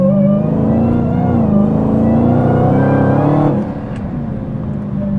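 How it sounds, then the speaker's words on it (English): A Dodge Demon accelerating hard from a stop, a loud, close supercharged V8 roar rising in pitch for about three and a half seconds before easing off into a lower engine drone. "dips forward and then give it gas here"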